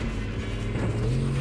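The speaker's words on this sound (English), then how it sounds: "Another car around somewhere." A car engine in the video game Fortnite, a steady droning hum that rises slightly in pitch toward the end, close and continuous with no talk.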